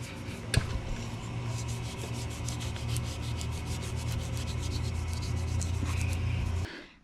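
Hands rubbing something onto the metal of a restored 1960s John Deere plow give a steady, close, continuous friction sound with a faint low hum beneath, holding evenly for about seven seconds and then stopping abruptly.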